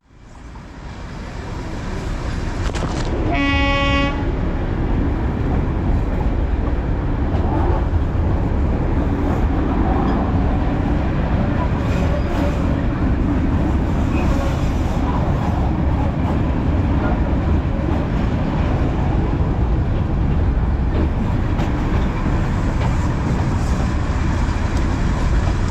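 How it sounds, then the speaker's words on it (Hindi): Darjeeling toy train running from New Jalpaiguri toward Darjeeling, a loud continuous rumble of rolling wheels and rail noise, with a short high horn-like whistle near the start, heard close and steady throughout. "साइड वाली ट्रेन न्यू जलपाईगुड़ी से दार्जिलिंग की ओर जा रही है"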